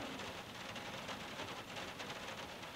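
Steady rain patters softly on a surface, a faint, continuous hiss with scattered drops and no voices.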